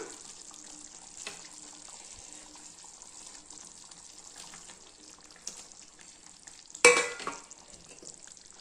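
A steady simmering bubble of gravy with faint stirring, then a sharp sizzling splash as fried ivy gourd drops into the hot pot, settling back to a gentle simmer.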